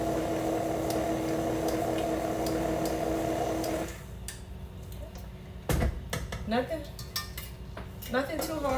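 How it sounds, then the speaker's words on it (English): A spoon clinks and scrapes against a bowl while dry ingredients are stirred into melted butter for chewy bars, with irregular metallic taps after a steady appliance hum cuts off. "I want to introduce this dry ingredient to the melted butter, and I want it to become a uniform mixture"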